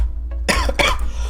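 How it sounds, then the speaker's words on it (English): Two harsh coughs burst right into a close microphone in quick succession, loud and abrupt against a quiet, low hum. "Sorry for like coughing directly into the mic, it just kind of happened."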